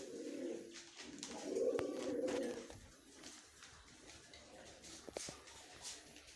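Pigeons coo softly at a small pigeon farm, with a low warbling burst early on. Faint shuffling and a few light knocks follow in a quiet room, and no voices are heard.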